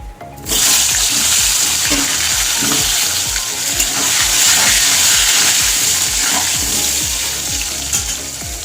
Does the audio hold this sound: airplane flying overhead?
no